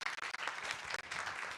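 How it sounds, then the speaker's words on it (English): A conference audience gives a short, faint round of applause at the end of a live-streamed session. "A round of applause and once more."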